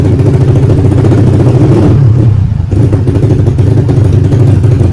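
Near and loud, a stock automatic scooter engine held at raised revs drones with a pulsing, choppy helicopter-like flutter that dips briefly midway before resuming.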